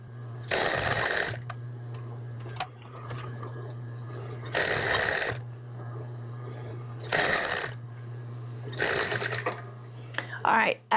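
A sewing machine back-stitches the fabric of an apron in four short loud motor bursts separated by pauses over a steady low hum, with a voice speaking in between.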